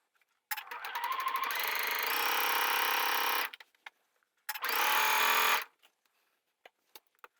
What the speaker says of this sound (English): Now you're going to stitch it from the top all the way down to the bottom.